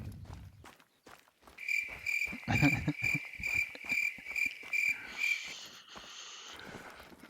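A cricket in a hunting video game chirps in a steady, shrill, rapidly pulsing trill for several seconds, with soft footsteps crunching along underneath.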